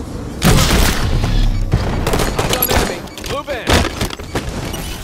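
A grenade goes off in Halo 5 on the Aquarium map. It lands as a loud, close boom among crackling gunfire and thuds, with voices shouting over the din.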